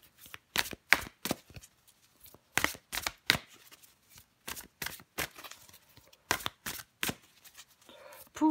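Tarot cards riffled and drawn from a deck, a series of sharp flicking and snapping sounds in irregular bursts, close and fairly quiet with short pauses between them.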